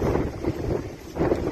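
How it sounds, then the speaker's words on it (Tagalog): Strong wind blowing steadily outdoors, a loud broadband rush that swells and gusts, buffeting the microphone throughout with a stronger surge near the end. "Ang lakas ng hangin."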